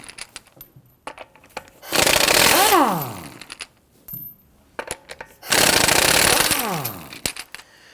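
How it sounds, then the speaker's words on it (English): An impact wrench fitted with a 19mm socket loosens the lug nuts on a 2001-2009 Volvo S60. Two loud, rattling bursts of hammering, each about a second long, are separated by quieter clinks and handling noises. "we're going to use our 19mm socket to loosen the lug studs"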